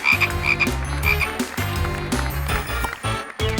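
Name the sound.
frog croaking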